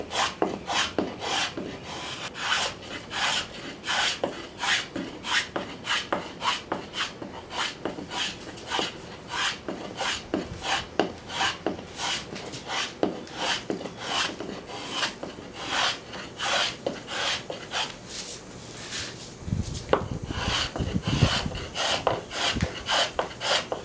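A travisher shaves a wooden chair seat in steady, rhythmic rasping strokes, close and fairly loud, repeating for a long stretch with no talk.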